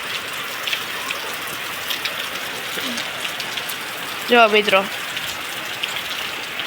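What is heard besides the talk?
heavy rain falling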